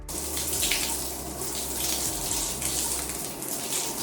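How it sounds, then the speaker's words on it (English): Shower water running steadily while a hair mask is rinsed out of curly hair, a continuous close hiss and splash with no talk. "now I'm going to rinse out the hair mask and I'm going to brush through the hair under the water"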